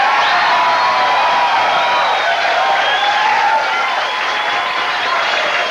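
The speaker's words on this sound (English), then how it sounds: "I think we've got our wildest crowd in Sports Waves history here tonight" Loud studio audience applauding and cheering at a live sports TV show taping, a dense steady roar of clapping and whoops sustained throughout with no pause.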